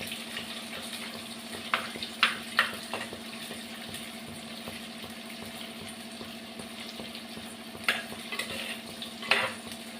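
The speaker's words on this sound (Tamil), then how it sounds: "அப்படியே நல்லா ஃப்ரை பண்ணலாம் எண்ணெயிலேயே" Prawns for prawn 65 frying in oil, a steady bubbling sizzle under a constant low hum, with a few sharper crackles and spatters scattered throughout.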